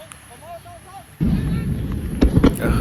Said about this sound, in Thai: ใช้ AK ด้วย ยิงทีเสียงกระจุยกระจาย